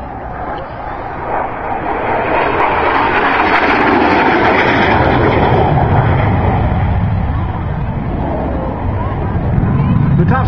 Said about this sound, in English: Back around from the right, ladies and gentlemen, the AV-8B Harrier.